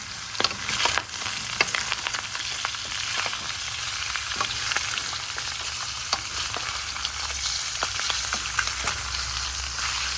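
Pork skin fries in a dry pan with no oil and is stirred slowly, giving a steady close sizzle with occasional scraping clicks from the stirrer.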